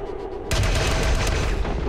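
Reaction shots erupt in XCOM 2: War of the Chosen, a loud burst of gunfire that kicks in abruptly after half a second of quiet and keeps going with sharp, overlapping cracks.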